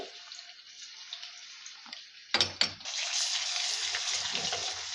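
Ginger garlic paste frying in oil for chicken pickle, a faint hiss that jumps with a couple of sharp spatters into a loud, steady sizzle.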